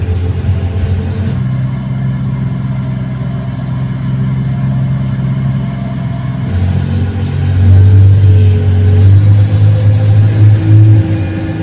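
A Komatsu HD785-7 mining dump truck's diesel engine rumbles steadily at close range during operator training, then revs harder and louder for the final few seconds.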